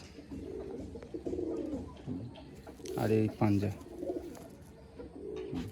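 Madrasi pigeons coo softly in a series of low, throaty calls while someone talks nearby.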